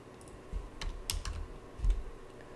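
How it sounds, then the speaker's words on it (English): Quick bursts of typing on a computer keyboard while entering a name in a design program, with several clustered key clicks, close and fairly clear over a quiet background. "And I'm gonna type a name in, Catherine."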